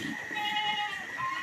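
A Boer goat on a livestock farm in Brenggolo, Jatiroto, Wonogiri bleats in a drawn-out, wavering call, with other faint farm noise in the background.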